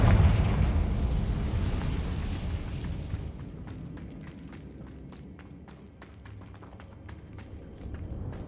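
A Confringo fire spell goes off in Hogwarts Legacy, a loud roaring blast that swells at the start and then fades into a rumbling tail with scattered crackles and small pops.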